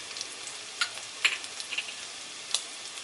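Ginger sizzles and crackles in hot oil for a street-style veg chowmein, a soft frying hiss broken by sharp scattered pops.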